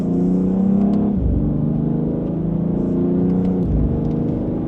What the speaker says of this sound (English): Just a mild acceleration, you can feel that this car just wants to keep going.